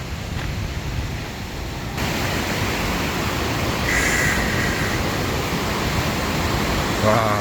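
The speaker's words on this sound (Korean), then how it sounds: "시원합니다 물소리" Steady rushing water, broad and continuous like a stream or small waterfall close by, growing slightly louder partway through.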